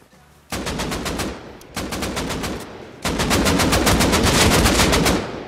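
Loud, close automatic gunfire from the video game Rust, three sustained rapid bursts of shots, the last one longest, with no voices.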